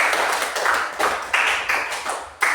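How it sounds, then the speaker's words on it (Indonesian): Sparse, uneven clapping from a primary-school maths class for a student, a few separate bursts of hands rather than a full ovation, close and fairly loud with no talk. "Kasih tepuk tangan untuk Nadine"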